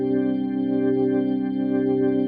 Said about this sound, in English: It's just a straight organ, keys on,